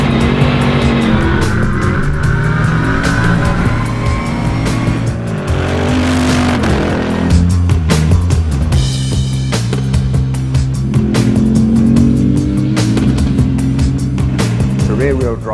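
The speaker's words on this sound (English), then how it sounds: "Already it puts a big smile on my face just how quickly the engine accelerates." A Bentley Continental GT3 race car with a 4-litre V8, rear-wheel drive and six-speed sequential transaxle, revs and accelerates loudly and continuously through repeated gear changes, with brief tire squeal and a voice talking over the engine.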